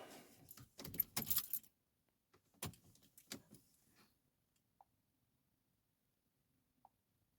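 Car keys jangle in the ignition as it is turned off and on, a burst of close metallic rattles, followed by a second shorter burst and then two faint clicks in near silence.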